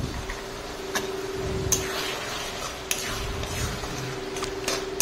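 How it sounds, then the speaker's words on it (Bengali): A spatula stirring spices into a Bengali fish curry in a pan, light scraping with sharp metallic clinks at irregular intervals over a steady low hum. "খুন্তি দিয়ে এইভাবে মিক্স করে নেব।"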